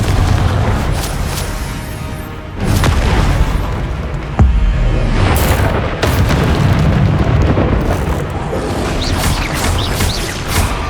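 The Confringo fire spell explodes in Hogwarts Legacy on PS5 with loud, continuous booming blasts, a few sharper detonations punching through a dense, roaring wall of combat noise.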